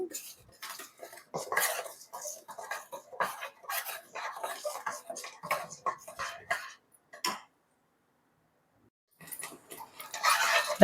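A spoon scrapes and clinks against a pan while mango pulp for mango tandra is stirred with sugar and cardamom powder, in quick irregular strokes, close and fairly quiet, with a brief pause near the end.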